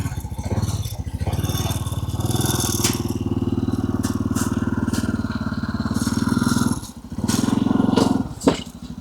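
A motorcycle engine being loaded onto a motor carrier idles with a steady, throbbing rhythm close to the mic, dipping briefly near the end before revving back up.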